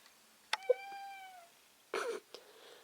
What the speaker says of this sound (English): I don't know if you can hear his meow, but it's the most manliest meow that ever meowed before